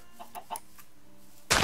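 A chicken in the FTB Continuum Minecraft modpack gives a few faint, soft clucks, followed by a sudden loud burst of other game noise at the end.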